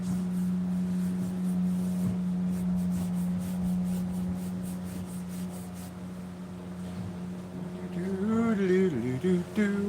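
A passing boat's engine buzzes as a steady low drone throughout, growing louder and shifting in pitch near the end, while a voice talks over it.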